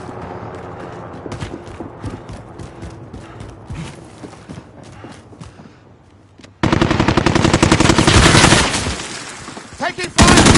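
Gunfire rattles through a PS4 shooter game, scattered shots under game voices at first, then a sudden loud sustained burst of rapid automatic fire close by.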